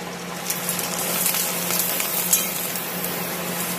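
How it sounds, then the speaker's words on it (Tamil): Dried rice vadam frying in hot oil, a continuous bubbling sizzle with small pops and crackles scattered across it. "இப்போ வறுத்து காமிக்கிறேன்"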